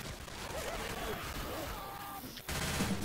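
Rapid automatic gunfire from a gun in a zombie video game, a dense continuous burst of shots heard close and loud for a few seconds with a brief break near the end.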